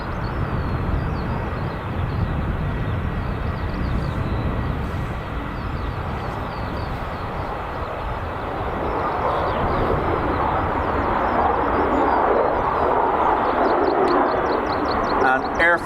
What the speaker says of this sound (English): Lufty getting in on the departures as well. 320 Neo just about to appear on your screen as it rounds the corner.